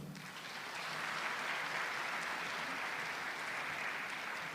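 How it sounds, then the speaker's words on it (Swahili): An audience applauds after a speech by the governor of the Bank of Tanzania, giving a dense, steady roar of clapping that holds evenly for several seconds with no voices over it. "Tuongeze tena makofi mengi kwa Gavana Tutu."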